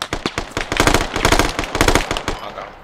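Automatic gunfire in a video game on the Kokan Valley map rattles out in rapid, loud, close bursts, with short gaps between volleys and a brief trailing pop at the end.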